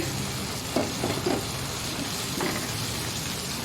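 Ingredients sautéing in a pan for a Filipino home dish, a steady soft sizzle with a few brief scraping stirs, close and continuous with no talk.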